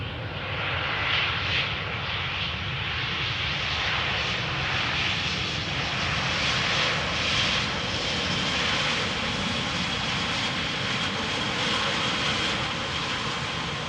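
An EasyJet airliner arriving at Amsterdam Schiphol Airport, its engines a steady, loud broadband roar that holds evenly throughout with no talk over it.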